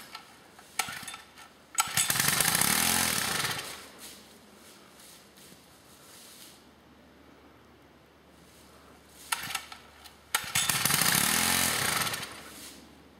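Someone tries to start a small engine twice; each attempt brings a loud, close burst of sputtering engine noise lasting a couple of seconds that fades out instead of staying running, with a quiet gap between the two tries.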